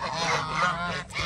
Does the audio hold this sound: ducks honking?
yes